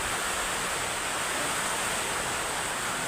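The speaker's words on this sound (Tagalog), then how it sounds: "narinig nyo yung agos ng ulan guys lakas" Dense, steady hiss of heavy typhoon rain pouring down during Typhoon Verbena, a loud unbroken wash of noise with no voices.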